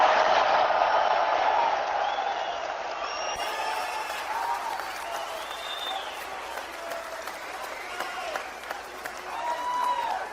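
Crowd at a political rally in Hamilton, Canada, applauding and cheering steadily, loudest at the start, with whoops and shouts rising over sustained clapping throughout.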